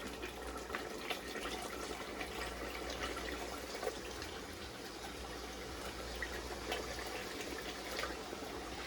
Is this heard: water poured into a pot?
yes